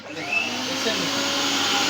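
A 1200 watt blender running at speed one, a loud steady whirring motor roar close by that starts abruptly and holds without letup.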